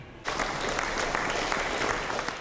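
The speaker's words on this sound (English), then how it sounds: "That applause greeted Kathleen Ryan and Nancy Smith as they took their place before the 53 other veterans of Mission 92." Crowd applause greeting veterans of Honor Flight Rochester Mission 92 at the Military Women's Memorial, starting suddenly after a brief quiet moment and continuing as a steady, dense wash of many clapping hands.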